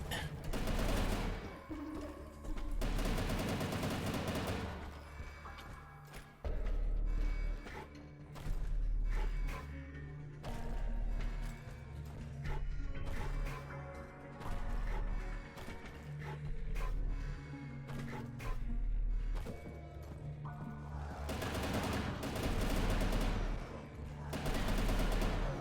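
Rapid machine gun bursts in the retro boomer shooter Incision, long sustained volleys of dense, punchy shots broken by short pauses, loud and up front with no voices.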